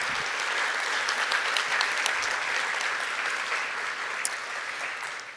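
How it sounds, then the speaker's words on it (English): Audience at a fall 2023 FC convocation applauds Dr. Regina Stanbeck-Stroud, a steady, dense wash of clapping from a large crowd that holds for several seconds and tapers slightly near the end. "Let's give another round of applause to Dr."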